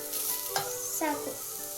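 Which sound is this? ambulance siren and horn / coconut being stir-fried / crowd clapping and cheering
coconut being stir-fried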